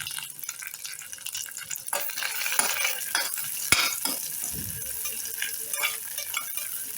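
Onion, garlic and ginger sauté in a hot pan for restaurant-style malai kofta, a steady close sizzle broken by spoon scrapes and stirring clinks, with no talk.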